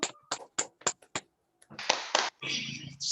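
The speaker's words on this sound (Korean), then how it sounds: "뜨거운 박수 보내드리겠습니다" A handful of separate hand claps at an online Korean sales seminar, crisp and sparse like a few people clapping, followed by a voice speaking.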